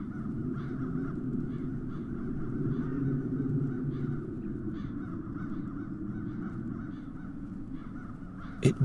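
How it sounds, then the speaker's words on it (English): Crows caw repeatedly over a low ambient rumble in the video game The Dark Eye: Chains of Satinav, their harsh calls fairly faint and scattered throughout. "Those crows hexed you."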